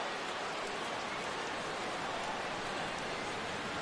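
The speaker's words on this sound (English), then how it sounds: "Rain continues to fall here in the 6th." Steady rain falling across a ballpark in a PS4 baseball game, a soft, even hiss of continuous patter with no breaks, heard alone at low level.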